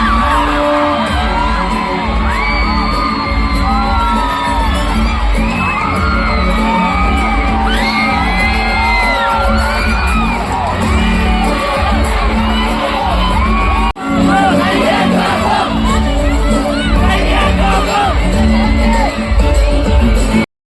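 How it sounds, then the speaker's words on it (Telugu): At a musical night stage event in Vijayawada, a huge stadium crowd cheers, whoops and yells continuously and loudly for Pawan Kalyan's entry, with shrill whistles over a dense roar and voices shouting throughout. "పవన్ కళ్యాణ్ గారు ఎంట్రీ స్టార్ట్ అవ్వగానే స్టేడియం దద్దరిల్లిపోయిందంటే నమ్మండి. అసలు అరుపులు, కేకలు అసలు మామూలుగా లేదండి."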